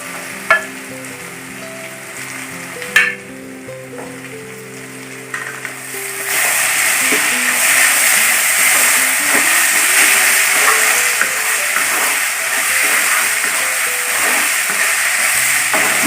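Onion and tomato sauté in a pan for kadai chicken. A few clinks and taps open, then a loud continuous sizzle with faint stirring fills the rest, close and without talk.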